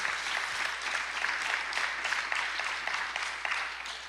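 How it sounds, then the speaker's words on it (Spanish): A church congregation claps steadily through a worship service, dense sustained applause filling the room at moderate distance with no voices on top. "puedes darle ese aplauso mejor al Señor"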